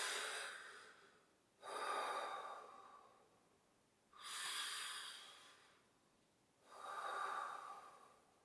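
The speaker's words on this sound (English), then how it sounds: "some deep breaths in and out" Slow, deep breaths during a yoga session: three long airy inhales and exhales, soft and close, evenly spaced with quiet pauses between them, no talking.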